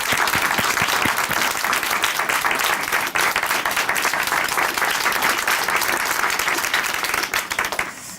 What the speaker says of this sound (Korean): 박수 부탁드릴게요.